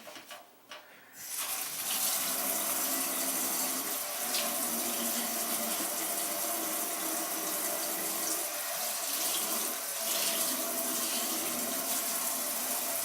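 Water runs from a kitchen faucet in a steady, moderately loud splashing stream into the sink, starting abruptly after a brief quieter moment and continuing alone.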